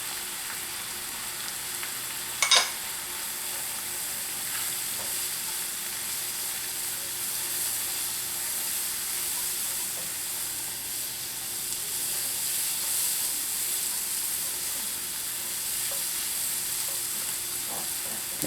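Flour browning in a frying pan for homemade beef stroganoff, a steady soft sizzle and hiss running throughout, with one brief clatter early on and no talk.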